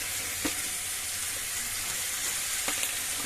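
Capsicum fries in a pan for a bottle gourd curry, giving a dense continuous sizzle with a couple of sharp stirring knocks, close and unbroken by speech.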